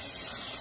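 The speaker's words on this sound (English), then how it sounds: "I'm gonna spray some pan." A single short hiss of cooking spray sprayed into a pan, close and steady, cutting off abruptly at the end.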